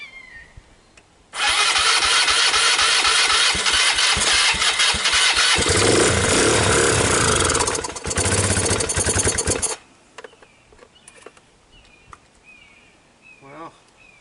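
A Polaris Phoenix ATV with a faulty carburetor cranks loudly and sputters for about eight seconds, then falls silent with faint noise afterward.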